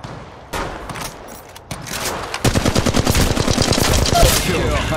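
Rapid automatic gunfire in Apex Legends, a few isolated shots then a dense sustained burst of close, loud rounds building toward the end.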